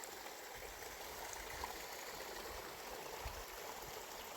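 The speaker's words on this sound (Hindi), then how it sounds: "और यहाँ बहुत पानी है, ये देख लो" A mountain spring stream in a hillside village in Uttarakhand flows in a steady, faint, continuous rush of water with no talking over it.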